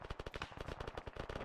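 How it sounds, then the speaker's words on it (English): Rapid automatic gunfire from a team-versus-team Arma battle in the Bourbon Warfare community, sharp repeated bursts in a steady rattling rhythm, loud and close, filling the whole moment with no talk over it. "Taking fire from straight to the west."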